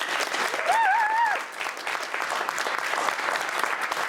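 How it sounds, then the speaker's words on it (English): An audience at a literary reading applauds the readers, a steady wash of clapping from many hands with a brief whistled tone early on, lasting the whole stretch. "Let's have another round of applause for all of our readers."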